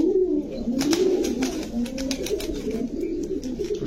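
Jhuma pigeons coo close by, soft rolling low calls repeating in a steady rhythm with faint background noise and no voices.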